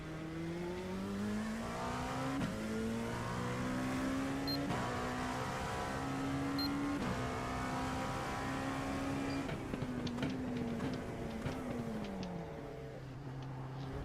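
LMP2 prototype race car engine in a racing video game, revving steadily with rising and falling harmonic pitch sweeps as it shifts gears, loud and continuous with no talk.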